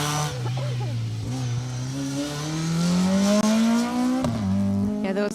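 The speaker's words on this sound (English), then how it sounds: "Keith Anglesey and Christine Pearson in their silver BMW Compact there" Silver BMW Compact rally car on a stage of the Rali Menai rally, engine revving through rising and falling gear changes close by, with a commentator talking over it.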